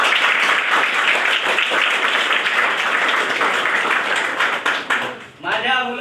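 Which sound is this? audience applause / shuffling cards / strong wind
audience applause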